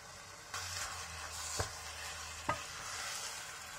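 Minced meat coated with flour is stirred in a hot pan, a faint steady sizzle under two sharp utensil taps against the pan.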